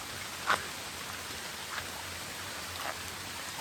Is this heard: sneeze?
no